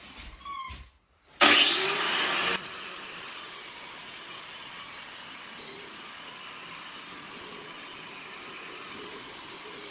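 A sander's dust vacuum switches on with a rising whine, then settles into a steady high-pitched running hum that continues to the end.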